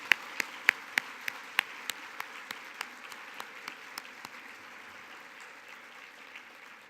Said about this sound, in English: Please join me in another round of applause for these talented youth and their leaders